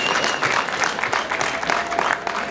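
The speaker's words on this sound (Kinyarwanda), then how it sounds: "umukomere amashyi" Clapping from a wedding audience, a dense wash of many hands with uneven bursts, moderately close and continuous across the moment.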